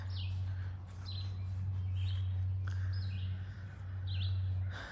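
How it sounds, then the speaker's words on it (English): Several birds chirp in short, repeated bursts over a steady low mechanical hum. "The birds are super happy and chirping."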